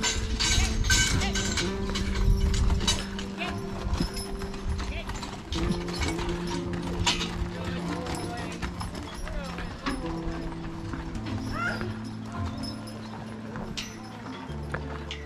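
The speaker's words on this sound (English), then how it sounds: "It's just a horse." A horse's hooves clip-clop in a steady rhythm close by, with mechanical rattling and clanking mixed in.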